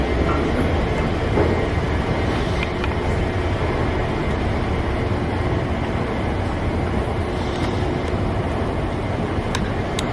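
Subway train noise in a New York City station, a loud continuous rumble throughout with faint metallic clicks and squeals on top and no talking.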